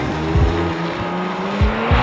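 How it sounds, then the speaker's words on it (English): A 2021 Kia Stinger GT drives along, its engine a steady loud hum with short rhythmic thumps, heard from inside the car with no talking. "let's get out there and take it for a drive and see what this Stinger is all about"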